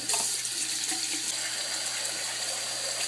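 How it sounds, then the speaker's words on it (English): A bathroom tap runs steadily while a face is rinsed, a continuous close rush of water into a sink with small splashes. "I'm going to immediately go rinse off with water"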